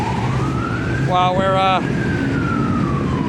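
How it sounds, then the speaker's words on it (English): A police car or ambulance siren passes by outdoors while work goes on at a flood-damaged car, its rising-and-falling wail sweeping across the clip over steady background noise, with a short stretch of harmonic tones and a brief spoken word. "Got the police officer or ambulance going by."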